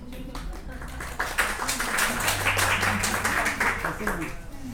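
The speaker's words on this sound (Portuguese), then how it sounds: "Palmas para a professora." A classroom group claps for their teacher at the end of a late-running evening lesson, a moderate scattered round of hand claps with voices mixed in beneath.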